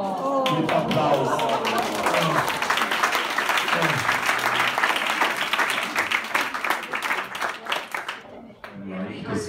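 Applause for a female tour guide from a tourist audience, a dense steady clatter of clapping hands lasting throughout, with voices talking over it.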